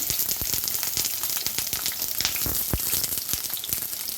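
Onions frying in hot oil for mutton chops, giving a steady close crackling sizzle with frequent sharp pops and spits throughout.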